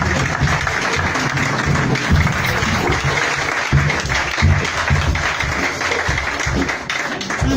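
A church congregation applauds steadily and densely throughout, a continuous wash of many hands clapping, with faint voices mixed in underneath.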